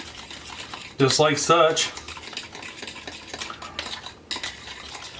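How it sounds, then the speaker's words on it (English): Butter sauce being stirred briskly with a fork or whisk in a dish, with a short burst of quick metallic scraping and clinking near the start, followed by softer stirring under a few spoken words. "we will take a fork or a whisk, either way, and give this a good quick stir up"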